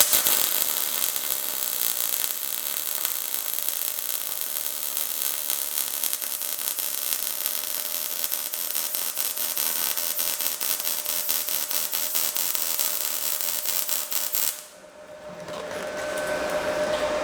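A YESWELDER MP200 Pro multiprocess welder lays a bead with a loud, steady crackling hiss that runs unbroken for about fifteen seconds, then cuts off, leaving quieter background noise.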